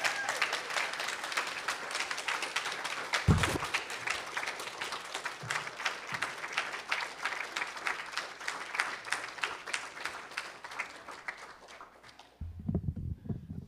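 An audience at a faculty concert claps in sustained, dense applause for about twelve seconds, then it drops off abruptly and leaves a few low thumps.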